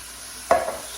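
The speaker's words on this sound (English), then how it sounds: "what we're going to do is add in a tin of chopped tomatoes" A tin of chopped tomatoes hits hot frying spices in a pan, giving a sudden close hissing sizzle burst that quickly settles into a quieter bubbling fizz, no talk.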